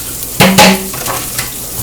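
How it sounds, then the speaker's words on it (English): Eggs crackle and bubble in a hot pan, with a couple of sharp clinks of a utensil or dish near the start and a low steady sizzle throughout. "My eggs appear to be bubbling,"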